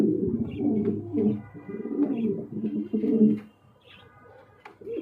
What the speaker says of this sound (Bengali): দেখতেই পাচ্ছেন নটা কি সুন্দর ডাকছে